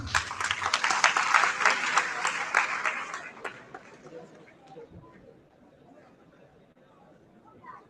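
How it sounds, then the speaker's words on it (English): Students at a national symposium applaud a judge with loud, dense clapping and crowd murmur that fades after about three seconds into quiet chatter in a large hall. "Once again, a big round of applause, students."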